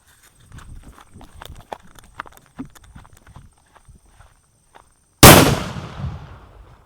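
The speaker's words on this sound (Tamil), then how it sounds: "இது பார்த்திங்கன்னா டைனோசர் பாம்" A single loud blast from a Dinosaur bomb nattu vedi Diwali firecracker bursts out near the end, its roar trailing off, after several seconds of scattered light taps and footsteps.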